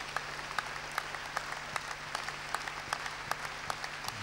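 A church congregation in Kpalimé applauds as a pastor is welcomed, producing a soft, steady patter of scattered claps over a low hum, fairly quiet and distant.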